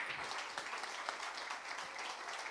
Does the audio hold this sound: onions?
no